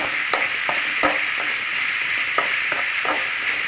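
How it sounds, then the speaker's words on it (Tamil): Tomato masala with salt sautéing in a pan, a steady close sizzle broken by several sharp spoon scrapes and taps at uneven intervals, no voices. "அந்த மசாலாவில் உப்பு சேர்ந்து வதங்கிச்சானா நல்லாயிருக்கும்"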